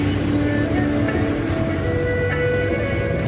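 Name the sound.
Darjeeling toy train passing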